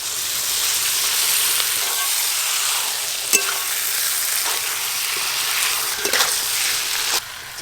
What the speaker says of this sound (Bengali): মশলা মাখানো চিকেন দিয়ে দেব।